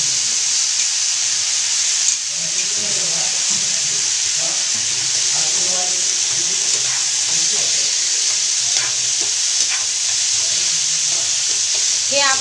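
Boiled mixed grains for a spicy usal are tossed in hot oil and masala, giving a steady, close sizzle with soft scraping stirs running throughout.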